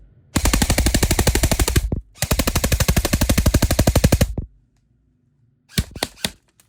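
An HFC airsoft gun firing full auto, rated around 500 FPS out of the box: two long, loud bursts of rapid, evenly spaced shots, then a few short separate pops after a brief pause.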